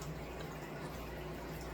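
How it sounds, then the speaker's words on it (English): Water runs continuously from home fish tanks, a faint, steady trickling wash with no breaks, heard alone. "if you can hear running water, that is my fish tanks"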